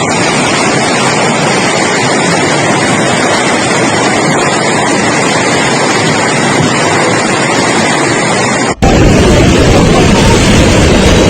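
Floodwater rushing under the main bridge of Mingora bazaar after torrential rains, a loud, continuous roar heavily buffeted by wind, with a sharp cut near the end.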